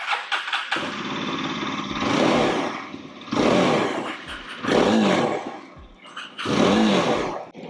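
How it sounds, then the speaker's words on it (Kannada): A 2025 Yezdi Adventure motorcycle revs through its exhaust in three or four loud, close bursts, each swelling to a throaty roar and dropping back toward idle between blips, with no talk over it. "ಸೊ ಈ ರೀತಿಯಾದಂತಹ ಒಂದು ಎಕ್ಸಾಸ್ಟ್ ನೋಟ್ನ ಇದ್ರಲ್ಲಿ ಕೊಟ್ಟಿದ್ದಾರೆ"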